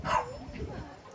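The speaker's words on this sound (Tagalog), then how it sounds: "Yung aso namin." A dog at a home where it is being kept from bathing gives a short bark-like yip near the start, followed by fainter whimpers, with a person speaking over it.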